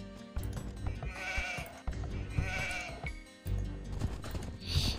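Sheep in the video game Age of Empires 2 bleating repeatedly, several wavering calls in a loose rhythm, close and fairly loud over a low game ambience, with no talking.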